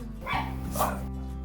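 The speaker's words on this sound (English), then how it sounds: "sorry if you can hear my dog in the background" A pet dog barks twice indoors, muffled and somewhat distant, over a steady low electrical hum with no talking.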